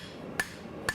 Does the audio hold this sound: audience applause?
no